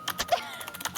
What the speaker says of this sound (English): who is typing and eating loudly